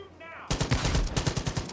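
Rapid gunfire in the shooter Far Cry 5, a close burst of repeated shots in quick rhythmic succession after a brief quiet lead-in with a faint voice.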